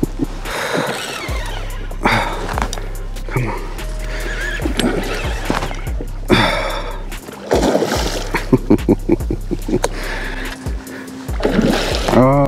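Splashing water beside a fishing boat as a big red drum fights near the surface in a Texas bay, bursts of splatter mixed with excited talk and background noise.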